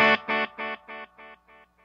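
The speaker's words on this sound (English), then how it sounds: "it gives it a little bit of degraded sound, a little bit of distortion, preamp distortion" Boss RE-202 Space Echo pedal with preamp distortion repeats a short, gritty tone as a train of about seven echoes, each quieter and duller than the last, fading out in an even rhythm.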